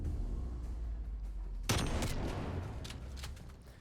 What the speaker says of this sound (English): He gets taken down by the shotgun.